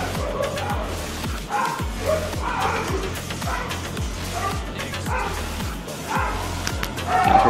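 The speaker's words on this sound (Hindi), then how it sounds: "पिछली गली कुत्ते लड़ रहे मेरी गली में आ रही" Street dogs fighting outside, several barking and yelping in rapid repeated bursts with whimpers mixed in, loud and fairly close, continuing without pause.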